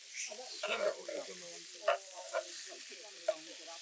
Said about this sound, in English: So get them up onto the side of the pan there. It's just going to help sear the sides.